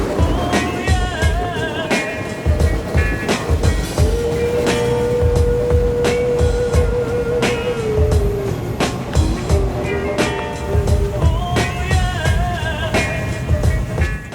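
A jungle train in Malaysia from Kuala Lumpur rolls along with rhythmic clattering of wheels over rail joints, metallic squeals and a sustained screech, loud and close from inside the carriage.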